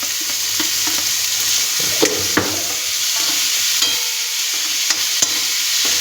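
Tomatoes fry with onions in a pan: a steady, loud close sizzle broken by occasional scrapes and knocks as the mixture is stirred, with no talking.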